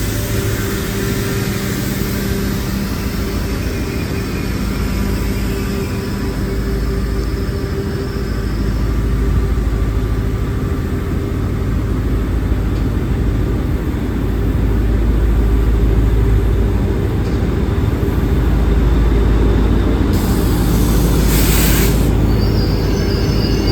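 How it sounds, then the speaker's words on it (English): A train pulling into the station at Trapani, Sicily, heard as a loud, steady rumbling drone with engine hum that holds throughout, close by and with no talking. "There's another train into the station."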